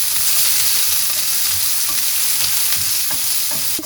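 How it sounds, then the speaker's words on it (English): Bell peppers stir-frying in a tablespoon of oil in a pan, a steady loud sizzle with scattered clicks and scrapes of stirring throughout, no voices. "I've added a tablespoon of oil and just going to cook the peppers in it."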